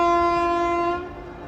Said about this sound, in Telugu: అక్కడ ట్రైన్ వెళ్తుంది